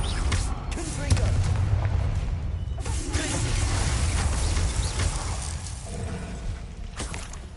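A Confringo blasting spell bursting in Hogwarts Legacy, heard as dense booming explosive noise with repeated blasts through the clip, while a player shouts a spell name.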